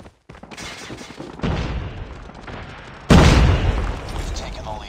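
Frag grenade explosion in a Call of Duty Mobile deathmatch, a loud burst that cuts in sharply partway through amid ongoing game gunfire and booms, with no pause between blasts.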